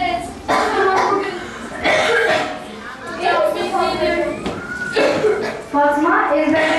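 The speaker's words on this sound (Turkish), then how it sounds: "ve sürekli öksürüyordu." A young girl coughs repeatedly, harsh close bursts recurring through the clip, mixed with other voices talking and some chuckling.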